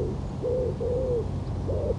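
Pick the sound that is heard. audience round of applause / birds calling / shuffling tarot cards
birds calling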